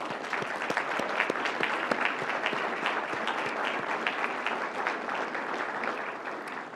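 Sustained applause from an audience at a 2019 oath of office ceremony for Rochester Hills police, steady dense clapping throughout with no speech.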